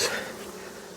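Honeybees buzz steadily at an open hive while a beekeeper makes a walkaway split during a nectar dearth; the dense hum is loudest at the start, then settles to an even drone.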